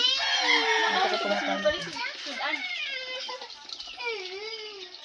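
Backyard chickens, including large broilers, cluck and call close by over lively children's voices and talk, with rising and falling bird calls through the few seconds.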